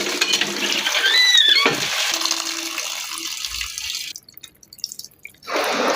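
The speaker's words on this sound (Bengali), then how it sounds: "এখন এইগুলো হচ্ছে আমি সুন্দর মতো করে ধুয়ে নেব।" Food being rinsed under a running kitchen tap, a close steady splash and trickle of water that breaks off partway, leaving a few quiet drips and clinks before the flow returns.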